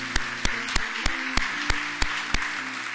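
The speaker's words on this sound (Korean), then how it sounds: "우리 다시 한번 하나님 옆에 영광과 감사의 박수 올려드리도록 하겠습니다" A church congregation claps in a steady, even rhythm of sharp beats, with a faint tonal backdrop beneath.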